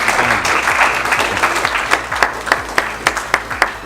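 An indoor audience at a Podcast Expo session applauds steadily and fairly close. The dense clapping thins toward the end into a few distinct, spaced claps.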